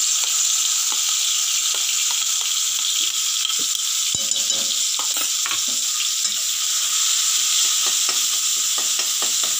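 Pounded garlic and chili paste fried in leftover oil for an okra and potato dish, a loud, even hiss of sizzling with occasional pops and stirring clicks, no voices.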